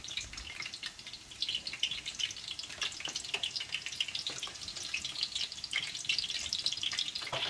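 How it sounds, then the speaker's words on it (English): Shredded onions fry in hot oil in a pot with a continuous bright crackle and sizzle and scattered sharp pops, heard close up with no voices. "I add the shredded onions inside the oil. How the oil is singing with the onions."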